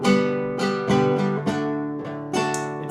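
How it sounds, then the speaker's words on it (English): Several guitar chords strummed one after another, ringing out clearly and close with nothing else around them. "if I was to play some chords"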